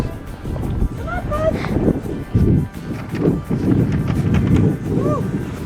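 Strong gusting wind buffets the microphone during a snow storm outdoors near a greenhouse, rumbling in uneven bursts while people talk and call out over it.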